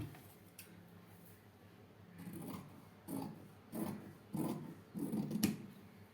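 Scissors cut through fabric for a frock-style nighty, a series of short crisp snipping strokes spaced about a second apart, close and fairly quiet.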